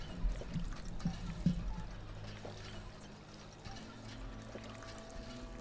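Water pouring and trickling in Fallout 4, a soft, quiet stream with a small splash near the start, continuing faintly throughout.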